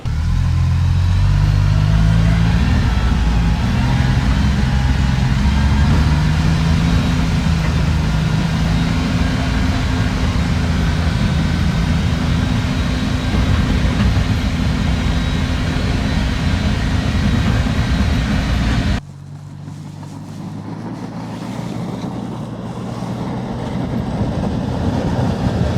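A CFMoto U10 Pro UTV fitted with a KFI V-plow drives up a snowy driveway, its engine droning loud and steady for most of the stretch before cutting to a quieter, lower rumble near the end.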